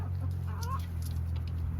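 Chickens cluck softly nearby over a low steady hum, with a few brief calls and no talking.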